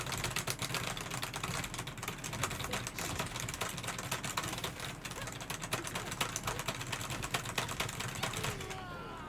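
Keys clack fast and steadily while Tekken 8 is played with a PC keyboard, a dense close-up rattle of presses that runs without a break, with faint game sound underneath.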